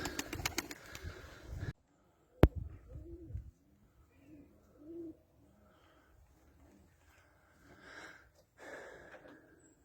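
Soft, low Beyaz İstanbul pigeon coos repeat in short rounded phrases at a moderate distance, with a brief burst of rustling and a sharp click near the start.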